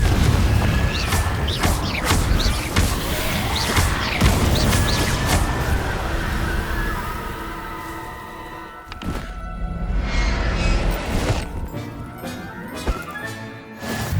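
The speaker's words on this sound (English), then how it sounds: "Confringo!" Confringo blast spells exploding in the video game Hogwarts Legacy, several loud booming bursts and crashes in quick succession amid busy combat effects, with a short lull before more impacts.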